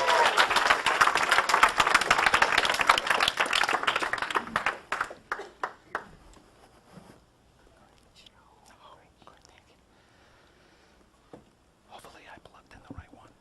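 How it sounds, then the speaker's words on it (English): An audience applauds a performer with brisk, fairly close clapping that thins into scattered claps and fades out within about five seconds, then quiet room sounds and light voices follow. "let's give a big round of applause"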